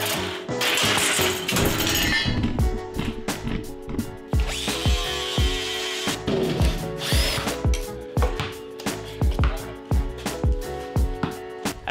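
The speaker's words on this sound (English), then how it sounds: "Gotta cut the floorboard out." A power tool cuts out the floorboard of a go-kart during an electric conversion. It whines loudly up close, then breaks into a series of rhythmic, juddering bursts with knocks and rattles.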